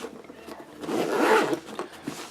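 A single quick zip as a camera equipment bag is closed, a short rasping pull lasting about a second, close and clear with nothing else over it.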